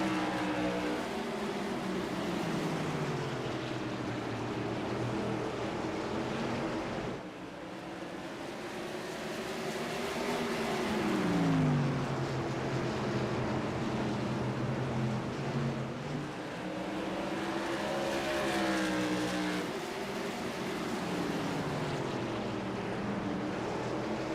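Modified race cars roar around Stafford's short oval, engines droning loud and steady as a pack of cars sweeps past, pitches rising and falling with each pass over about twenty-four seconds.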